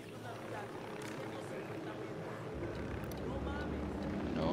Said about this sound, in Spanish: Se acerca un helicóptero. O sea, no os mováis.